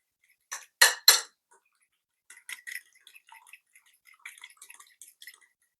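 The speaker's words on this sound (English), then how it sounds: "Just give it a quick mix with a fork." A fork whisking egg wash in a bowl, with two sharp clinks followed by a run of light, quick taps and scrapes against the bowl, close and quiet in between.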